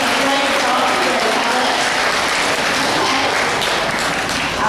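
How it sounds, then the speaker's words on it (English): Applause from a crowd at a school end-of-year event, honoring two student MCs, a dense steady wash of clapping that holds at full volume throughout, with voices mixed in underneath. "I must give these two MCs a great round of applause for doing a great job here."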